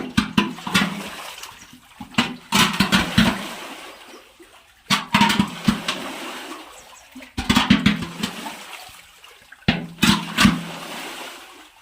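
A hand churns shallow stream water to stir up fish, making bursts of splashing and sloshing that come in several separate waves with short quiet pauses between them.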